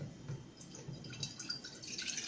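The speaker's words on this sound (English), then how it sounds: "I'm going to be just taking a container of distilled water, glass jar. I'm going to pour about" Distilled water trickles into a glass jar in a quiet kitchen, a faint, soft pouring sound with light splashing and dripping that builds slightly toward the end of the short pour.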